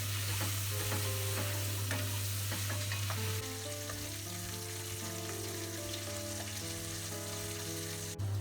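Onions and carrots sautéing in a little butter for cassoulet, a quiet steady sizzle with occasional stirring under a constant low hum that shifts in pitch partway through.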